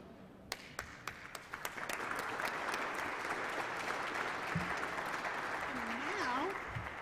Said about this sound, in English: Let's give a big round of applause for our newly hired and newly promoted management leadership team.